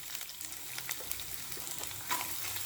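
Onions frying in oil in a kadai on a stove, soft crackling sizzle with light stirring and scraping clicks, faint and close, with no talking.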